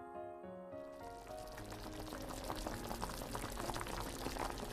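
A pot of pork tripe soup with yam and red dates boils steadily, a dense continuous bubbling and gurgling that stays close and fairly loud for the whole stretch, with no voices over it.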